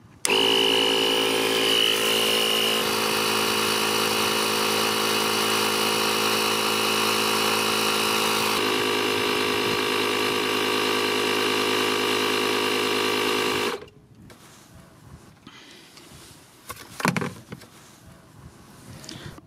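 A 12V jump starter power bank with built-in tire inflator runs its compressor pump at close range, a steady loud motor drone pumping a tire toward 3 bar for about fourteen seconds, then cutting off abruptly, leaving faint handling noises.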